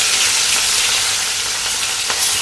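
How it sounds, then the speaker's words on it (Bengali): Fish frying in very hot oil, a loud, continuous close-up sizzle with a few brief pops and spatters, no speech. "তো তেলটা গরম হয়ে গেছে, বেশি গরম হয়ে গেছে। এখন মাছগুলো দিয়ে দেব।"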